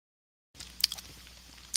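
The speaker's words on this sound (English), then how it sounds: "I didn't want to eat and let you guys hear me crunch the whole time" Brief crisp crunches of a chip being bitten and chewed close to the mic, two sharp bursts separated by quieter chewing, in an otherwise quiet room.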